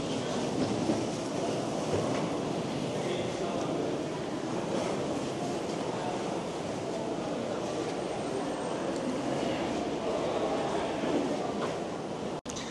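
Steady rumbling roar of a Seoul subway train in motion, heard from inside the car, continuous and even throughout with no clear voices.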